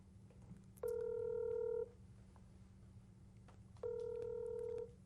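Two steady telephone ringing tones, each about a second long and spaced a few seconds apart, faint over low background hum, heard while calling an investment advisory firm that never answers.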